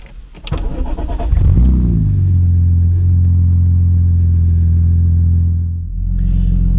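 A tuned BMW Z4 M with an engine built on the M3 E46 CSL starts and settles into a loud, steady idle with a muffled, deep exhaust note, dipping briefly before holding the rumble again, close by.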